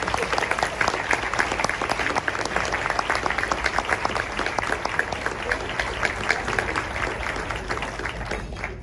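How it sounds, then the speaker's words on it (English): A Women in Business event audience gives sustained, dense applause welcoming two speakers to the stage for a keynote conversation, steady and close throughout with a faint crowd murmur. "please give them a round of applause"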